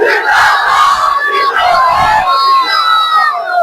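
A large crowd at a religious gathering on the finality of prophethood chants a slogan in unison, loud roaring voices rising and falling together, sustained and close throughout.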